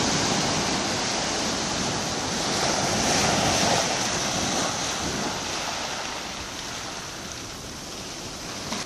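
Ocean surf washing onto the beach at Saint-Paul, Réunion, at dusk, a steady, loud broadband roar of breaking waves with gentle swells in intensity and some wind noise, no voices.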